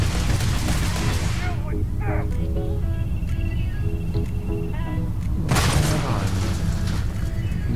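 Enemy gunfire in the video game Starfield: a couple of loud, booming bursts, one near the start and another around the middle, over a dense, steady game soundscape with ambient mechanical tones between them.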